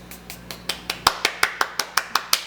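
Hands clapping together about a dozen times in a quick, even rhythm, starting soft and growing sharper and louder, close up, to knock powdered sugar off while baking brownies.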